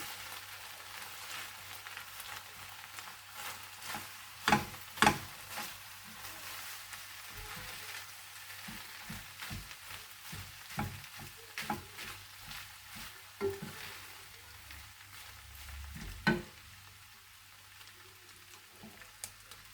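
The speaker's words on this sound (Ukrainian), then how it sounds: "Перемішуємо наш рис з грибами і ковбаскою" Rice with mushrooms and hunting sausages is stirred in a frying pan, a faint sizzle running underneath while a spoon scrapes and knocks against the pan in irregular bursts.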